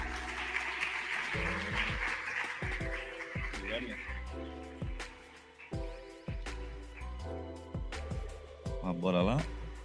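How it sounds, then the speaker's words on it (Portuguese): Audience applause fills the room at a conference on AI in digital retail, broad clapping noise mixed with speech and music-like tones, fading after a few seconds while a voice and stage sounds take over. "Uma salva de palmas, pessoal."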